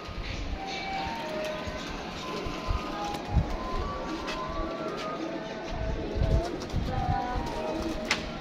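Pigeons coo on a rooftop, soft low calls repeating against a faint, busy outdoor background, with a few brief louder bumps.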